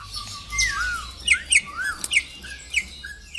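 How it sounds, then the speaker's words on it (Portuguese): A troupial (currupião) sings in a breeding aviary: a run of bright, whistled and sliding notes with sharp chirps, repeated several times at close range with no talk. "Mas o currupião canta e se exibe como um campeão do viveiro."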